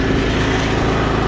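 A 60-inch Exmark Lazer Z S-Series commercial zero-turn riding lawn mower idles smoothly, a steady, close, low engine drone with no change in pitch or loudness.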